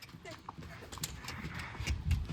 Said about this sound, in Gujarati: પાછો ઘોડો કૂદવે છે.